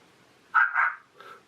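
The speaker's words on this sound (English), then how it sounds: "Dog barking." Dog barking effect played from a cheap DCC sound card: two quick close barks followed by a fainter third, synthetic and thin in tone, heard alone without talk.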